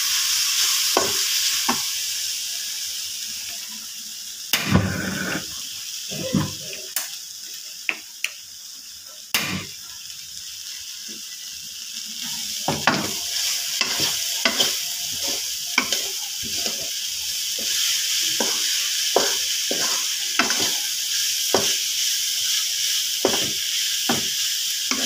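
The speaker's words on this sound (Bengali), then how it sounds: "চিংড়ি মাছটা আমি একটু হলুদের লবণ দিয়ে সরিষার তেলে ভেজে নিচ্ছি।" Shrimp frying in mustard oil with turmeric and salt, a constant hiss of hot oil punctuated by sharp spatula scrapes and taps, sparse at first and then more regular, without speech.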